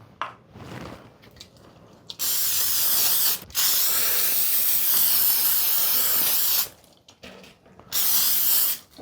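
Aerosol food-grade lubricant sprays onto trays for smoked meat sticks in two long, loud hissing bursts and one shorter one, with faint handling clicks between them, close up.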